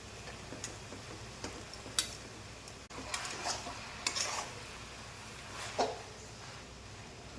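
Hakka noodles being tossed and mixed with spicy seasoning in a pan, a quiet low sizzle under irregular light scrapes and taps of a utensil against the pan, close and without voices.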